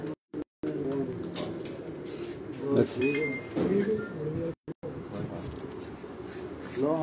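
Pigeons coo in repeated low throaty bursts, close and fairly loud, while people talk over and between the calls.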